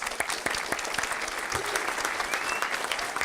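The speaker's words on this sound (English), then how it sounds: "give a round of applause to both Mrs. Hyde and Sarah for their accomplishments" Applause breaks out at a school board meeting, a steady round of clapping from the audience that fills the room at moderate volume for a few seconds with no talking over it.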